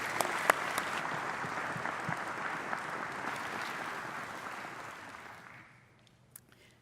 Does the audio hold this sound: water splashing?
no